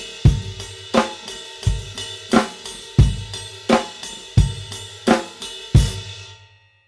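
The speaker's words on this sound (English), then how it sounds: "on the snare, we'll use the Moeller technique accents on the bell. And that would sound like this." Rock drum groove played at close range on a kit, with evenly spaced accented snare strokes played using the Moeller technique and bright ride cymbal bell hits ringing over a steady pulse, ending with a decaying ring.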